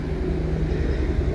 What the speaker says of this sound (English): I'm now going to get done by helicopter coming over my head